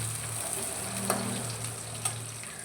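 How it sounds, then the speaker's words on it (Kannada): Onion frying in hot oil after mustard seeds have spluttered, making a steady close sizzle throughout with a few faint clicks of a utensil against the pan. "ಸಾಸಿವೆ ಚಿಟಪಿಟ ಅಂದಮೇಲೆ ಈರುಳ್ಳಿ"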